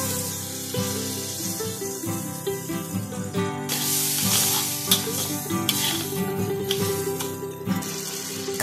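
Tomatoes hitting a hot pan for a Malaysian pomfret-in-tomato dish set off a loud, steady sizzle of frying, with stirring scrapes and spattering bursts running throughout and no voices.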